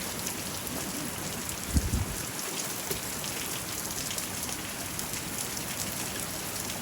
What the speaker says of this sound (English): It's bouncing down.